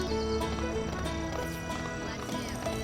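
Hooves clip-clop steadily as a pig is ridden around Lego City in the game Lego City Undercover, with a dense layer of game music and ambience running continuously underneath.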